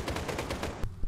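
Rapid gunfire from a tactical shooter video game, a burst of close, loud shots in a steady rhythm followed by a sharp report and a final shot after a brief pause.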